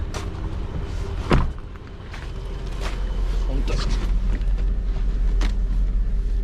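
Electric rear sunshade of a Mercedes-Benz W220 S-class rising, a low, steady motor hum that swells in after a brief thump and keeps running under faint cabin noise.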